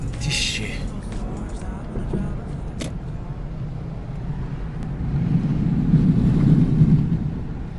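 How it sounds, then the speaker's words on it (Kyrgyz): Wind rushing in through an open car window while driving in Chicago, a low buffeting roar that builds toward the end, with people talking over it. "Терезени ачып койсок, конкретно шамал келип атат го."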